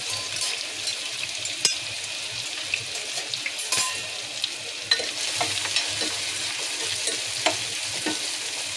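Onion frying in a pan with a little cumin, a steady close sizzle broken by the clink and scrape of a spoon stirring, with no voices.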